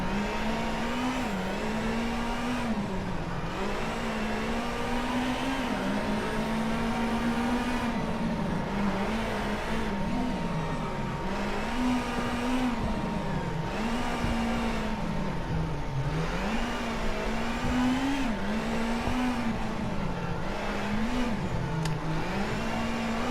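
A Ford Fiesta WRC rally car in the WRC 8 video game drones steadily up close, its engine pitch rising and falling with repeated revving and gear changes throughout.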